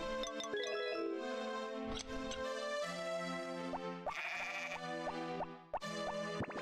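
Cartoonish sheep bleats from Harvest Moon: Back to Nature ring out over bright game music, several short wavering calls layered with plinking, boingy chimes.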